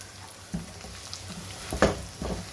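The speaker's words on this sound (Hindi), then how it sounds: "इसको थोड़ा सा भून लूँ ताकि ये अच्छे तरीके से कलर इसमें आ जाए" Potato rice for aloo pulao is fried in a pan, a low steady sizzle punctuated by a few soft stirring scrapes and one louder clatter near the middle, heard up close.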